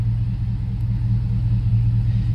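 A GMC Yukon engine idles smoothly and steadily, a loud low rumble close by with no speech over it.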